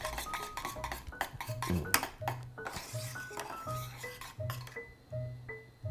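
A whisk rattles and clinks against a bowl while lumps are beaten out of a custard batter of salted duck egg, vanilla and butter, in quick, uneven strokes up close, with no talking.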